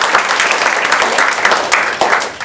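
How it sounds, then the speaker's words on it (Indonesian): Applause from a seated audience at a sales training session on handling objections, steady dense clapping with a few louder claps standing out across the whole stretch. "Jadi tepuk tangan buat Anda yang sudah"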